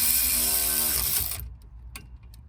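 Brake disc retaining screws being tightened on a Citroen Relay van, a loud continuous whirring of a power driver that winds down and stops, followed by a few faint clicks and taps.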